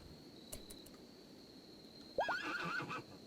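Horses neigh in RimWorld, a sharp whinny rising then wavering near the end of a quiet stretch, over a steady cricket-like chirp and a few faint clicks early on.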